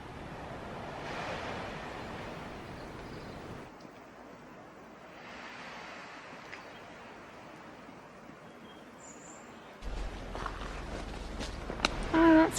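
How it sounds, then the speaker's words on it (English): Ocean waves break gently on a Cornwall beach after a violent storm, a soft continuous wash of surf with wind buffeting the microphone. Brief bursts of louder noise come near the end. "And the sound of the waves gently breaking."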